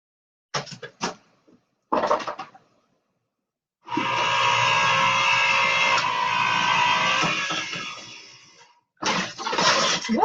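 A card is run through a die-cutting machine in a papercraft session: a few short clicks and bumps, then a steady mechanical whirring grind for about five seconds, and another burst at the end, close and fairly loud.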